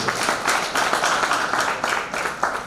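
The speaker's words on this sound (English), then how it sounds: "Please, can you give him a clap" Audience applauding a graduate at a University of Juba graduation farewell party, a steady crowd clap that stays fairly loud and even for the whole stretch with no voices over it.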